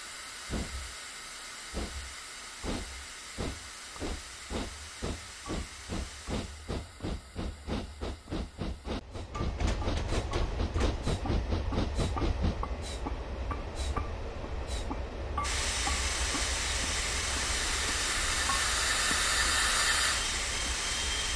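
A steam locomotive chuffs along the rails in steady, quickening exhaust beats that blend into a continuous roar, then gives way to a loud, sustained hiss of steam near the end.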